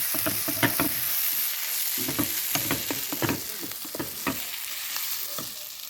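Chicken roast with curry leaves sizzles in a hot pan while a spoon stirs it, giving a continuous loud frying hiss under regular scraping strokes.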